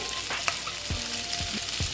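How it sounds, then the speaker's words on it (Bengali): Eggs frying in a pan with a steady close sizzle, punctuated by a few soft stirring knocks of a utensil, with no talk. "একটু ভেজে নেব ভালো মতন"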